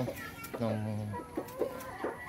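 A native hen clucks in a run of short, close calls that end in a drawn-out squawk, heard over a steady farmyard background.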